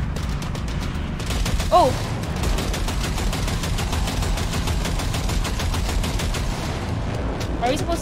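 Rapid automatic gunfire in the video game Cyberpunk 2077, loud and sustained as an unbroken rattle of shots, with a brief startled exclamation from a voice partway through.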